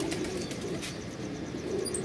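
Teddy pigeons flap their wings and shuffle close by in a dense, steady rustle, with faint coos and brief high chirps mixed in.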